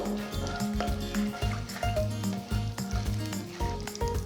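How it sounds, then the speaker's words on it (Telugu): Mustard seeds, urad dal and cumin sizzle in hot oil, a loud, dense crackle with quick popping bursts throughout and no speech. "సో ఆవాలు ఆడుతున్నాయి"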